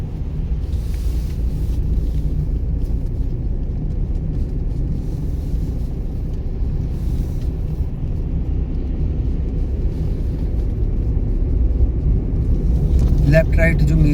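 A car engine rumbles steadily at close range during a driving lesson, with a low drone throughout and a brief rise near the end as the throttle is pressed.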